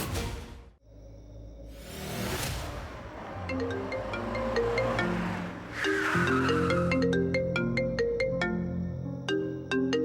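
An electronic ringtone melody plays steadily over a sustained musical backdrop, with chiming tones repeating toward the end; no one speaks.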